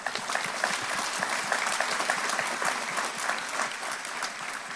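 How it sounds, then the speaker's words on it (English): An audience at the 2018 AFI GPF opening ceremony gives the hosts a round of applause, a dense, even wash of clapping that holds steady throughout with no voices on top. "let's give our hosts a round of applause."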